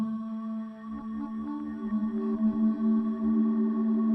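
A sustained tonal sound passing through a huge StellarVox convolution reverb on iOS, with layered harmonic pitches and soft struck notes blooming and ringing out into a long, smooth wash.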